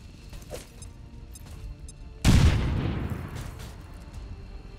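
A frag grenade in XCOM Long War detonates with a single sudden loud blast midway, followed by a rumbling, debris-filled decay that fades over the next two seconds.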